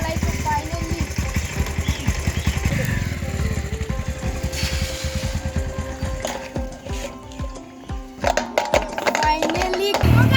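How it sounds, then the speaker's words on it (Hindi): A motorbike engine idles with rapid, uneven putters, then revs and sputters irregularly as someone talks over it. "फाइनली आप लोग साउंड देख सकते हो, सुपर बाइक पूरा चलने लगेगा"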